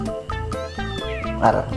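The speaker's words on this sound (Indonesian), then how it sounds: "Meow." A cat meows repeatedly in short, plaintive calls, close and fairly loud, with a person's voice mixed in among them.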